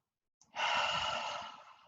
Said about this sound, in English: This is me stress breathing.